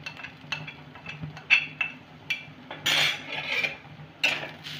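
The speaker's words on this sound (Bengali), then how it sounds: "একটু নেড়ে নেব।" Spiced bitter gourd with salt, turmeric and chilli powder stirred in a pan, giving light scattered scrapes and utensil clinks, fairly quiet and unhurried, with no talk.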